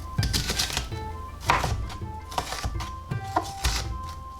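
A knife chops a regular onion on a cutting board, with a series of close, uneven thunks about every half second, clear and alone.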